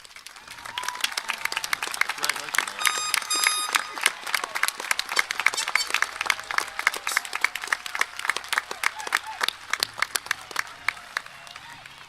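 Sustained crowd applause at a high school graduation ceremony as parents and grandparents are honored, many hands clapping in a steady, sharp patter that swells slightly and carries on for the full length.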